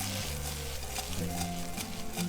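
Okra frying in a hot pan sizzles continuously up close while a spoon stirs through it, with a few soft scraping strokes and music in the background, lasting only a couple of seconds.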